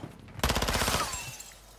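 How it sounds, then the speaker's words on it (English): A rapid automatic weapon fires in Call of Duty, a tight burst of about a dozen evenly spaced shots that starts abruptly and then trails off into a fading echo, close and loud. "Oh, somebody's firing."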